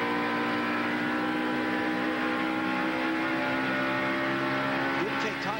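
NASCAR Winston Cup stock cars racing at Indianapolis Motor Speedway, a dense sustained engine roar with layered whining tones, loud and continuous, with faint crowd or announcer sound mixed underneath.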